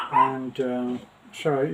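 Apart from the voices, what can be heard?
Pomeranian dogs barking behind a door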